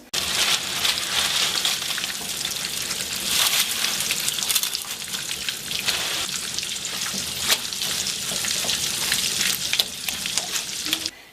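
Steady, continuous sizzling of oil being heated and food frying, close up, with crackling bursts throughout and no talking.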